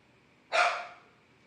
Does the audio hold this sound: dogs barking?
yes